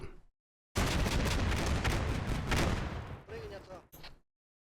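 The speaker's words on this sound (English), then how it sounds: "our second BMP just strolls into this guy's field of fire and gets taken out" A burst of heavy gunfire and explosions in the video game Combat Mission: Black Sea as a BMP is hit, a loud dense roar lasting about three seconds, then a few fading cracks.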